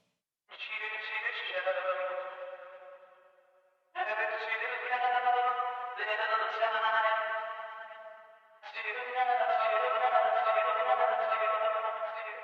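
A sung vocal line processed through a Sound Toys tremolo set to imitate a Leslie rotating speaker, with long sustained phrases that carry a wavering, pulsing shimmer and short gaps between them, clear and upfront.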